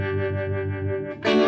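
A Telecaster electric guitar plays through a Flint tremolo and reverb effect. One sustained, pulsing chord fades, then a bright new strum hits near the end, close and fairly loud, with no voices.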